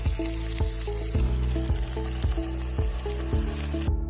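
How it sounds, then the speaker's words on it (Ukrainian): Nutria meat fries in a cast iron pot with a steady, close sizzle, overlaid by a regular pulsing tonal beat throughout. "Зараз обсмажимо гарно, а потім будемо тушкувати."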